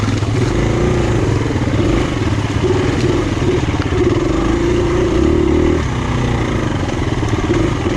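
A KTM 350 dirt bike ridden along Ohio woodland trails in a single gear, its engine droning loud and steady with a brief rise in pitch mid-ride and wind buffeting throughout.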